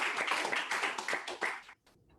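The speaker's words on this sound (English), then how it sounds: "Please give them a round of applause as well." An audience at a graduation ceremony claps in a brief burst of applause that fades out abruptly near the end, leaving a faint tail.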